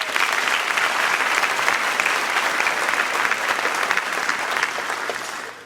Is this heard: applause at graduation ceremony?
yes